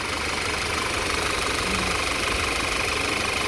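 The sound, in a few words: car engine running at idle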